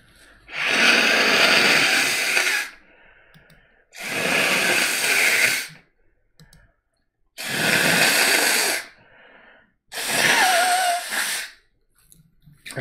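Four long, forceful nose blows spaced a few seconds apart, loud and close, with quiet rustling between them.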